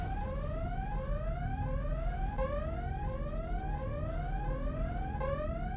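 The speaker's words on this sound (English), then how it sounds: "Let's wait till the alarms stop." A facility alarm in the video game Deus Ex blares continuously, a rising electronic tone repeating in steady sweeps over a constant low hum, loud and alone with no voices.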